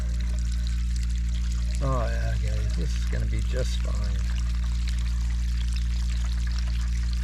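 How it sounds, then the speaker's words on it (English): Coolant-colored water pours steadily from the lower radiator hose of a Bronco engine, a continuous close trickle under a constant motor hum while someone speaks briefly. "So far we just got some coolant colored water."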